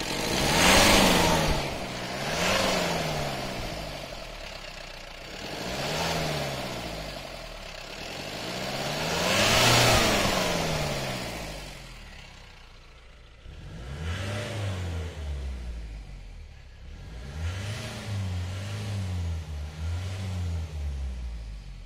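A Mahindra Roxor engine with an upgraded air intake revs repeatedly, each rise and fall of the engine joined by a rushing draw of air, with short pauses near idle between the bursts.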